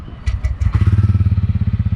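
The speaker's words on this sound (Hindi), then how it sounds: "let's start the bike" A few clicks and a starter whir, then a TVS Ronin 225 motorcycle engine catches and settles into a loud, close, steady idle thump.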